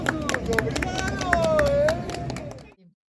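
An audience applauds a street performance poet with quick, scattered claps over a murmuring crowd. A faint whistle-like tone slides through the middle before the sound cuts off abruptly.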